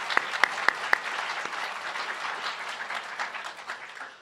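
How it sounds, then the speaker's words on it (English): Audience applause at a law school moot court competition final, a dense burst of clapping from a crowd with a few sharp claps at the start, fading gradually toward the end. "Let's have a round of applause for them."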